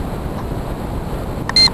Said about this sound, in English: Now that beeping sound you just heard is me switching from my directional helical antenna to my